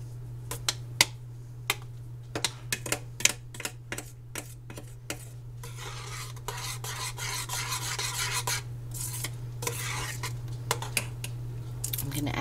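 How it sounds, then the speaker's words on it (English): Soup being stirred in a pot, a spoon scraping and clinking against the sides in a quick run of sharp taps, then steadier swishing rubs, all close up over a constant low electrical hum. "Stir it up."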